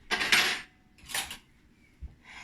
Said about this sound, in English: get a clean spoon